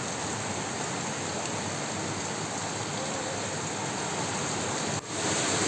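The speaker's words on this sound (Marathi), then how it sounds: "गावात मुसळधार पाऊस पडत आहे" Heavy unseasonal rain pours down steadily over a village, a dense continuous hiss of downpour that stays loud and unbroken, with a brief dip near the end before resuming.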